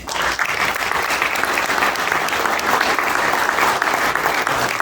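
Audience applause fills a hall of fame honors ceremony: a sustained, dense wash of clapping from a large crowd, steady and loud throughout without breaks.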